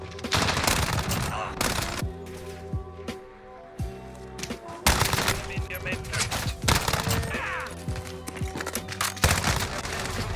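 Rapid bursts of Fennec submachine gun fire in Modern Warfare multiplayer, loud and close, repeating in several fast volleys with brief pauses between them, with faint voice chatter in the background.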